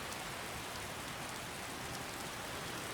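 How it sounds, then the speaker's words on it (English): Rainfall in the video game Skyrim makes a continuous, uniform wash of noise, heavy and close, with no talking and no breaks. "So unfortunately it is raining."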